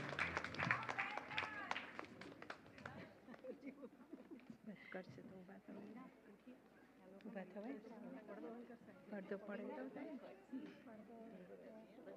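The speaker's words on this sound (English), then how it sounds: "One huge round of applause for our newbies, Rajan, Nirali, and Laksh Solanki." Audience applause after a cultural program performance at a Paryushan community event, a dense burst of clapping and crowd chatter at first that thins out to scattered claps and murmuring voices in the room.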